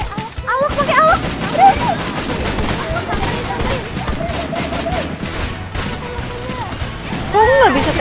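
Rapid bursts of gunfire from a shooter video game rattle almost continuously, mixed with game effects and talking voices throughout.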